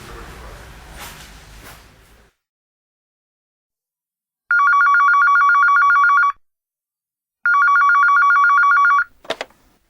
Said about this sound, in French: Voilà Marlène, je suis sûr qu'elle a son portable et qu'elle sera ravie d'appeler Paul